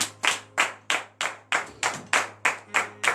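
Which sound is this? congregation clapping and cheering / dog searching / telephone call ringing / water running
congregation clapping and cheering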